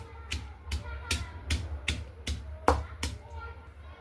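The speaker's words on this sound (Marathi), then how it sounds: "9-10 लसणाच्या पाकळ्या घालू, चवीपुरतं मीठ घालू आणि याला थोडंसं वाटून घेऊ" Garlic cloves, green chilies and salt pounded in a mortar with a pestle for tomato thecha: a steady run of about ten sharp, close thuds, evenly spaced, with one heavier strike near the end.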